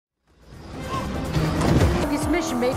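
In a Fast X car-chase scene, the target car passes by. A dense engine and tire roar swells quickly out of silence and stays loud, mixed with film soundtrack and a voice.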